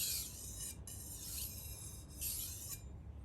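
A kitchen knife is stroked lightly over a King Deluxe 1200 grit whetstone to refine its edge, giving soft, faint rasping strokes repeating at an even pace, with no speech.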